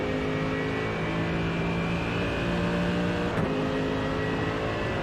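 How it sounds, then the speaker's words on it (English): A powerful Mercedes 6.2-litre V8 in a GT3 car in the iRacing game, roaring continuously at high revs down a straight at Hockenheimring, dense and loud, with a slight pitch shift midway as it holds speed. "Now hearing the Mercedes engine roar"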